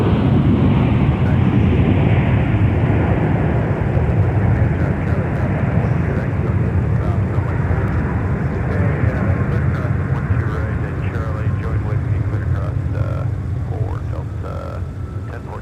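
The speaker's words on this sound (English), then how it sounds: "There's our touchdown from our A321." A loud, steady roar of an Airbus A321 touching down and rolling out at Minneapolis–Saint Paul airport, a broad rumbling wash that holds for the whole stretch and eases slightly toward the end.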